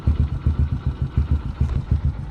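A motorcycle engine idling after warming up, a steady low throbbing putter with regular rhythmic pulses and light mechanical clatter, close and alone.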